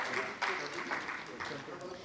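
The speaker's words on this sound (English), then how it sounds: "I'm sure we can have a louder round of applause." A conference audience at a space congress closing plenary applauds, a dense, continuous patter of many hands clapping, steady and moderately loud, with a voice faintly audible beneath it.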